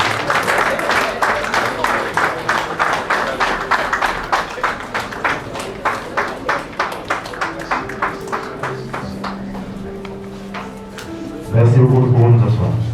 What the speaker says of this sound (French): On applaudit le futur mari.